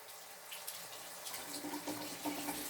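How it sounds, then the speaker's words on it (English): Faucet water runs over a straight razor blade, a soft, steady stream that thickens into fuller splashing in its second half, quiet and close with no talking. "What I'm going to do right now is I'm going to rinse off the blade."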